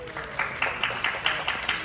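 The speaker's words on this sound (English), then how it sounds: "So give yourselves a round of applause." An audience at an animation drawing class at Animal Kingdom applauds, a moderate patter of claps with some louder individual hits, heard briefly and fairly close.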